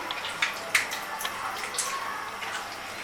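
Salted bitter gourd is washed and wrung out in a bowl of water during cooking prep, with steady sloshing and trickling, occasional splashes and drips, close by and without speech.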